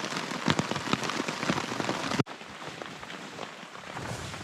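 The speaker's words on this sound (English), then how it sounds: "Honestly though, the rain is kind of beautiful." Steady spring rain patters on surfaces at a lakeside campsite during an Adirondacks canoe trip, a dense continuous hiss with no voices, briefly dipping midway before carrying on.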